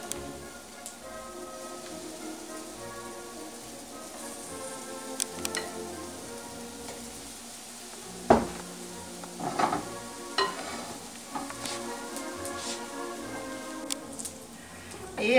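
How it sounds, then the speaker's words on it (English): Russian oladi pancakes fry in a little oil on a skillet over medium heat, giving a steady soft crackle with scattered louder pops and spatter bursts throughout. "So we are ready now to fry our pancakes."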